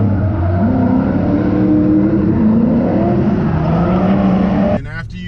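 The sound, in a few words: Mazda RX-8 driving on Sonoma Raceway course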